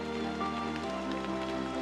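Steady rain falling on a jungle forest floor awash with puddles, a dense continuous hiss of drops with tonal animal or insect calls threaded through it, alone and fairly close.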